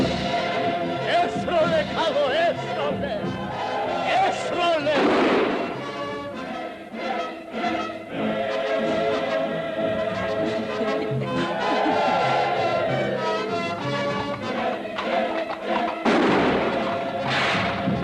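Gunfire in a 1959 Georgian historical adventure film, with booming shots and thuds over a dense battle soundtrack, some bursts standing out loudly.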